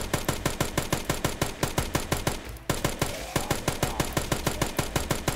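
Rapid automatic gunfire from the Dead Rising remaster video game, a loud steady stream of evenly spaced shots with a brief dip midway before the firing resumes, no talking.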